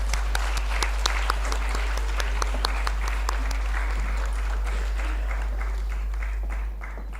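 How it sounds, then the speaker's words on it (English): An audience at a teacher app launch event applauds a prize-winning teacher, a full, steady round of clapping with a few sharper individual claps standing out, lasting several seconds and then cutting off. "A big round of applause for her"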